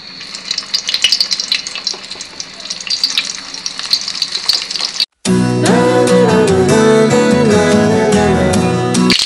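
Egg-coated brinjal boats go into hot oil in a frying pan, giving a steady loud sizzle after a brief quiet gap; earlier there is a softer crackling hiss of oil heating.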